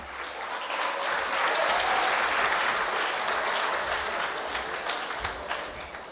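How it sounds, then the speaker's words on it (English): Audience at a high performance computing centre's gala dinner breaking into sustained applause, a broad, even roar of clapping that builds quickly and holds steady before thinning slightly at the end. "A round of applause, please, for Werner."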